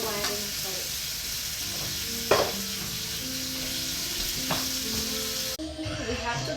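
A large New York steak sizzles in a hot pan, a steady close hiss throughout with a couple of brief knocks of handling, no talking.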